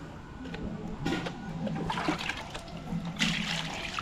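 Water sloshing and splashing in a container as cleaned murrel fish is rinsed by hand, fairly close and moderately quiet, with irregular bursts of churning and trickling and no speech.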